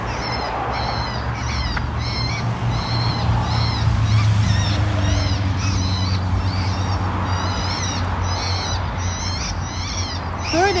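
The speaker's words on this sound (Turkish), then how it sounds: "yırtıcı kuşların sesini e, bir mikrofon yardımıyla veriyorlar" Repeated sharp bird-of-prey calls broadcast over a loudspeaker in a vineyard in Valais, Switzerland to scare other birds, ringing out steadily over a low constant hum and background noise.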